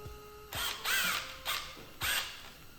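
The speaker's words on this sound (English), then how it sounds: "Let's see if my snap-on gun has any juice just to get these off and save me some time." A Snap-on impact gun removing bolts from a 1.8T engine: three loud, close bursts of buzzing, whining rattle, each about half a second long, with short pauses between them.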